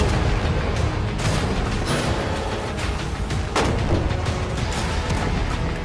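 A shot fired at a shipping container, heard as a single sharp crack about 3.6 seconds in amid a continuous loud rumbling background, with a few softer impacts scattered earlier.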